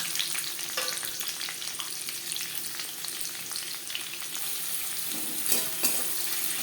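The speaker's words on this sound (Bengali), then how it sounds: "কড়াইতে আবারও তেল দিয়েছি এবার দিয়ে দেব পেঁয়াজ কুচি" Chopped onions sizzle steadily in hot oil in a wok for street-style chicken chow mein, a close, continuous frying hiss with a few faint scrapes and no talking.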